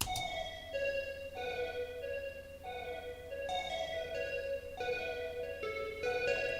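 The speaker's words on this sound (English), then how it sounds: "So I took the mellow harp," A mellow harp-like synth plays a slow plucked melody in an Ableton indie-style track, each note ringing with bright harmonics over a soft sustained low pad, steady and moderately quiet with no voices.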